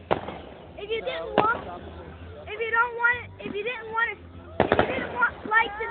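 Fireworks crack a few times during a public display, a couple of sharp bangs standing out briefly beneath lively nearby talking and crowd babble that dominate the moment.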